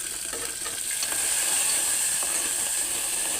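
Peanuts and green chillies fry in hot oil with a steady, bright sizzle and hiss, close and continuous, with faint stirring clicks underneath.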